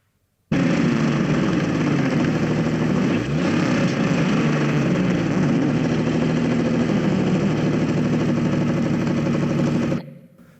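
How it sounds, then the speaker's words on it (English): An engine hums at a steady idle, isolated from a mix that also held a voice, starting abruptly and running evenly for about nine seconds before cutting off. "the engine sound has been well separated from the mixed sound"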